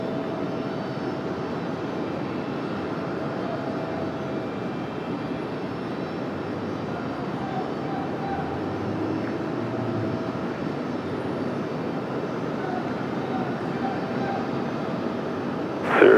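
Airliner landing at Raleigh-Durham airport, a steady distant roar of aircraft engines that holds evenly throughout, heard from outside.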